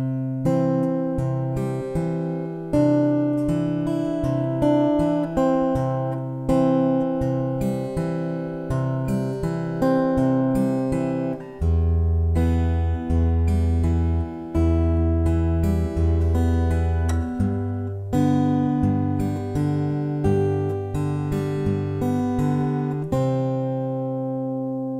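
Plucked acoustic guitar picking through a repeating chord pattern, individual notes ringing over a bass line, steady and close with no talking.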